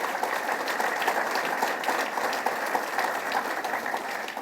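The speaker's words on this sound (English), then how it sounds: "Please give them all a round of applause." Steady round of applause from the audience at a Lake Ontario resiliency and economic development event, honoring a list of officials; even, continuous clapping at moderate volume with no break.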